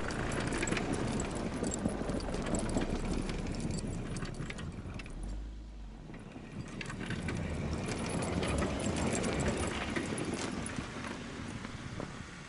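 A 4x4 vehicle on winter tires drives over snow in two-wheel drive, high range, with an open differential. A dense, steady crunching and rumbling runs throughout, heard close and continuous, with a brief softer dip midway.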